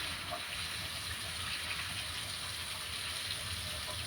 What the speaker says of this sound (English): My water is finally boiling.